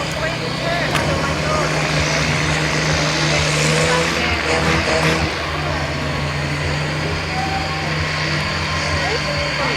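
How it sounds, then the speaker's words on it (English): A Jaguar engine drives an armoured vehicle spinning donuts at the War & Peace Show, a loud sustained drone with a rising surge midway, mixed with crowd and outdoor noise. "You can hear that Jaguar engine working."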